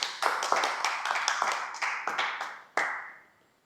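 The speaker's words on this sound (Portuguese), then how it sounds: "Vamos aplaudir!" A church audience claps in a quick, uneven burst of sharp, close hand claps that builds briefly, then ends in one final loud clap that rings out and fades.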